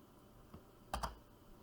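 A few keystrokes on a computer keyboard, soft clicks in a short burst, faint and close against a quiet room background.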